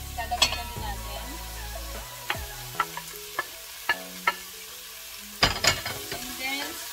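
Carrots and onion stir-fry in a pan for Korean japchae, with a steady sizzle under a run of sharp, evenly spaced utensil clinks and scrapes against the pan, close and clear.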